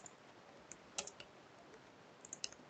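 Quiet clicks of typing on a computer keyboard while entering a terminal command, a few sparse keystrokes with a small cluster near the start and another near the end.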